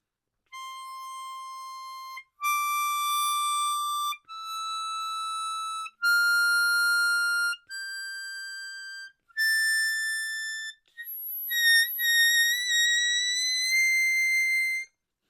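Harmonica notes climb a major scale one at a time, each held about a second, turning bright and squealing toward the top with wavering blow-bent pitches.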